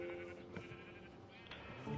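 Minecraft sheep give wavering bleats at close range, a few short calls over a busy game background, with no voices.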